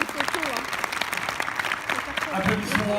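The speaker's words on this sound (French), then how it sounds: "je vous demande d'applaudir très très fort le réalisateur du film, Serge Hazanavicius, qui arrive" An audience in a cinema at a film premiere applauds, welcoming the arriving director Serge Hazanavicius with dense clapping that swells near the end while a host speaks over it.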